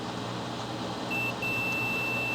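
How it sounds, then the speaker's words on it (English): A multimeter sounds its continuity beep as a steady high electronic tone that starts partway through, over a constant background hum during repair work on a Synology DS415+ reset button. "When we have continuity, we get a beep."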